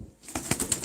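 A pigeon kept as a show bird flaps its wings in a few quick, close, soft beats after a brief quiet moment.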